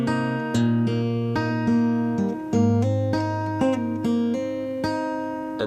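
Guitar intro riff, played with finger hammer-ons: a steady run of ringing, close-up plucked notes shifting pitch every half second or so, played alone with no talking.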